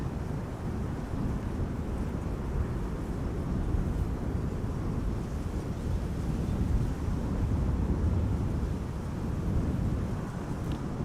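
A KLM Boeing 787-10 Dreamliner arriving at Amsterdam Schiphol Airport produces a steady, heavy low rumbling roar with wind buffeting the microphone, continuous and fairly loud throughout with no voices.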